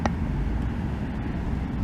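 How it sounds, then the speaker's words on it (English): Steady roar of car traffic on a very busy street near Garden of the Gods Park, heard while riding a recumbent bike uphill; continuous close road noise with no talk. "Sorry for the car noise"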